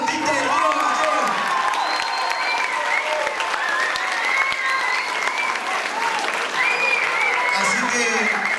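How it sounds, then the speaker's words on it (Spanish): An audience at a Río Gallegos TV program applauds local artists with loud, continuous clapping, mixed with some cheering and voices talking over it throughout. "Fuerte el aplauso para todos los artistas de Río Gallegos."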